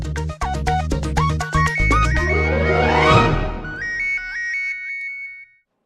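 A mobile phone ringtone plays loud and close, a bright electronic melody of rapid repeated notes rising in a sweep before trailing off into silence.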